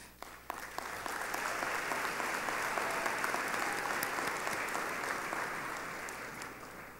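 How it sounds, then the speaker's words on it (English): A large commencement crowd applauds graduates at an academy ceremony, a loud, even roar of clapping that swells after a brief start and holds steady, echoing in a big hall. "a round of applause to all our graduates who have made it into 208 colleges and universities."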